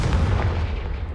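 A Confringo fire spell blasts in Hogwarts Legacy, a loud, heavy booming explosion with deep rumble that fills the short moment on its own.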